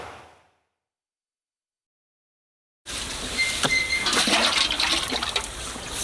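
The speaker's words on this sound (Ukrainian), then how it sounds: "Відходи йдуть через каналізаційну трубу в мікрорайоні Північний." After a brief silence, sewage water gushes steadily and noisily from a sewer pipe in Rivne, Ukraine, a continuous rushing flow that stays loud until the end.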